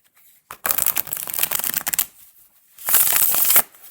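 Tarot cards with a black-core cardstock being shuffled close up: a rapid riffle of about a second and a half, a pause, then a second shorter riffle.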